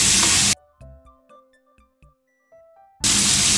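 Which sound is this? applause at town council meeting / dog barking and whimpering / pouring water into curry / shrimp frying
shrimp frying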